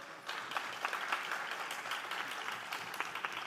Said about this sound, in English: Please do a bigger round of applause for that.